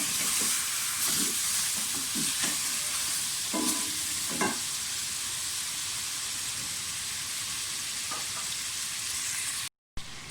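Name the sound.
chicken frying in a pan for gravy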